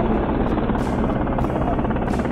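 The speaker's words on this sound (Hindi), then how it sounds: "ये यहाँ पर आर्मी का चौंपर आया हुआ है, बहुत ही बड़ा चौंपर है ये आर्मी का" A large army helicopter at a helipad on the Amarnath Yatra route near Pahalgam roars steadily, its rotor thudding in a fast, even pulse, loud and close throughout.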